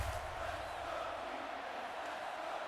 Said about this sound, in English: And the Shitbirds crowd, loud and proud.